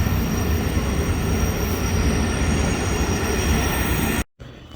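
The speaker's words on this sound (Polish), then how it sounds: "O, tam jakiś jeszcze jeden wagon do przestawienia jest" Railway wagons at a station, a steady loud rumbling roar with a high whine above it, continuous and close, then cut off abruptly near the end.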